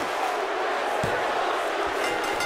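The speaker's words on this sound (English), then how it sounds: "Crowd loving it." Crowd at a televised wrestling show roars steadily around the ring, a dense sustained wash of cheering with a single thud partway through, loud and continuous.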